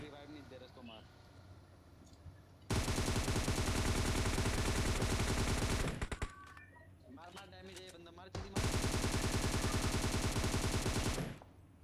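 Bursts of rapid Beryl rifle fire in the mobile game PUBG Mobile, two long, loud automatic volleys separated by a short pause with a few scattered shots, over a softer quiet stretch at the start.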